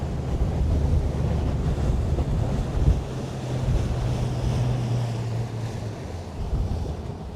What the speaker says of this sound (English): It's a lot windier out here.